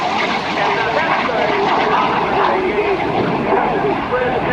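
An F-86 Sabre jet flies an airshow demonstration. Its loud, broad engine roar holds steady throughout, with a person talking over it.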